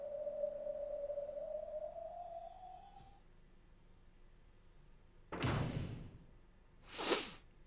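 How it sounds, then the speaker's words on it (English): A door closes quietly as a sound effect in the visual novel Umineko, heard as a soft burst of noise about two-thirds of the way in. A second thud follows shortly after, and a fading sustained tone precedes them. "At that moment, there was a quiet sound of a door closing."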